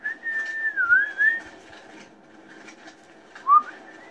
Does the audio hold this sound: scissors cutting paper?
no